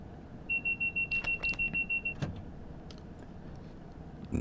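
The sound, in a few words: train vigilance alarm in Train Sim World 5 video game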